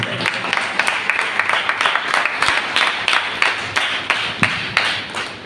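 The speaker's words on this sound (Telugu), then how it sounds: "చప్పట్లు కొడతాం." A congregation clapping along at a Telugu Christian New Year service, with steady rhythmic handclaps repeating evenly throughout, loud and close.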